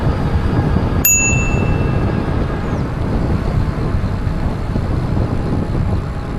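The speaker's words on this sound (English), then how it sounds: "I'm gonna give them a bell." A single bright e-bike bell ding rings out once and fades, over constant wind rush and rolling noise on a riverside trail.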